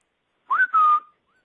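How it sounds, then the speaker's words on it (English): A single clear whistle sounds alone in silence: a short rising note that breaks briefly, then holds a steady tone for about half a second before stopping cleanly. "It does not dampen the thrill of hearing the whistle."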